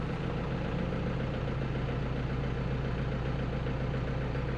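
A Mazda T3500 truck's diesel engine idles steadily close by, a constant low rumble with no change in pace and no talking.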